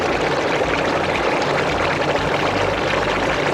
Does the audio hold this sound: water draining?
yes